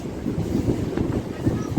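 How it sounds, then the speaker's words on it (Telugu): An MMTS local train in Hyderabad pulling into Uppuguda station: a steady, close low rumble of the carriages rolling along the track, with no clear speech. "సో ఉప్పుగూడ చేరుకుంది ట్రైన్"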